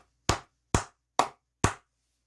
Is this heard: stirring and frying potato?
no